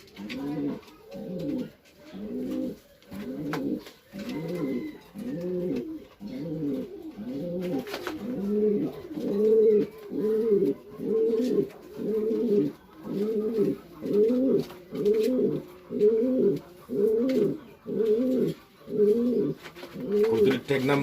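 A racing pigeon coos repeatedly in a steady rhythmic series of low, throaty rolling calls, close and fairly loud, with little else around.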